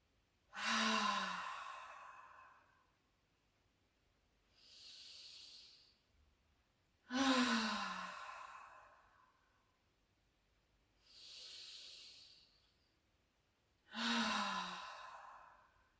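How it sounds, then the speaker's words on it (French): Three slow, deep breaths during a hip-opening psoas relaxation session, each a loud inhale through the nose followed by a softer, hissing exhale through the mouth, evenly spaced in a quiet room. "Je vais inspirer par le nez, expirer par la bouche 3 fois."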